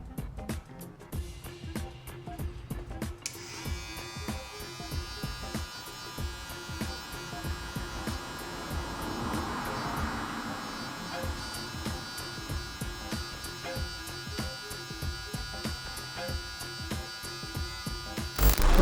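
A JRL 2020T hair clipper with a ceramic blade runs at around 6,500 RPM, giving a continuous steady electric buzz and hum close to the microphone throughout.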